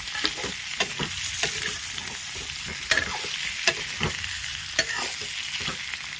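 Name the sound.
boiled potatoes frying in a pan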